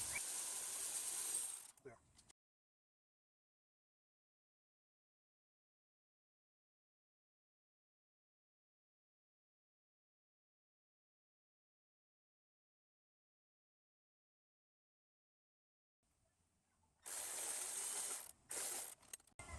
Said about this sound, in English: so I'm going to try to spin the bolt off